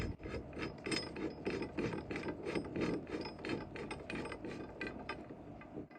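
A tube is screwed into a homemade clamp, making a rapid, evenly repeating series of close metallic ratcheting clicks and rubbing grinds that runs steadily throughout without speech.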